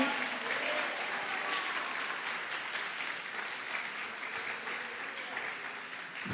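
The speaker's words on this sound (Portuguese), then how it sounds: "Você pode aplaudir o Senhor Jesus e glorificar." A church congregation applauds steadily throughout, a dense, sustained wash of clapping heard from within the room, with faint voices mixed in.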